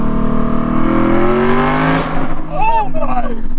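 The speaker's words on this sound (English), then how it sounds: "Well, I wonder if we could do a burnout there." A 1,600 hp twin-turbo Ford Raptor R truck on E85 revs hard for a burnout launch. The engine note climbs loudly and close, then breaks off. A voice exclaims over the engine near the end.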